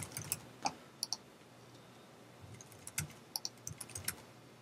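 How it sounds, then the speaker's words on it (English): Sharp, irregular clicks of fingers typing on a computer keyboard, close and fairly quiet, coming in uneven clusters with short pauses in a quiet room. "I'm just going to type some miscellaneous information here."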